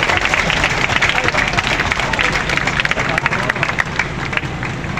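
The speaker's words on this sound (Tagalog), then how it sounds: "maaari tayong palakpakan o pumalakpak tayo sa dalawang nandito" A congregation at an Easter Sunday church service claps steadily in dense, sustained applause that fills the room, with a murmur of crowd voices underneath.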